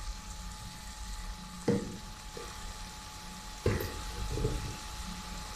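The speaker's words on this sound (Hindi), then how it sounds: "अब हम इसमें ऑयल डालेंगे इसकी भुनाई करने के लिए" Hot oil sizzles steadily as meat fries in a pot for degi-style aloo gosht, a soft continuous crackle broken by two sharper clatters of stirring.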